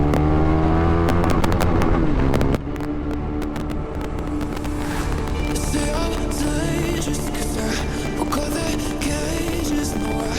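A superbike on a motovlog breakfast ride revs hard then shifts, engine whine climbing and dropping through the gears amid rushing wind, loud and close throughout.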